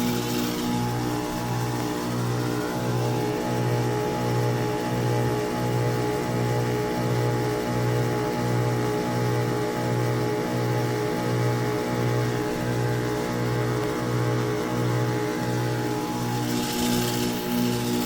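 A Carrier AQS 4-ton heat pump runs through a defrost cycle, its compressor giving a steady, droning hum with an even pulsing beat beneath a continuous airy hiss.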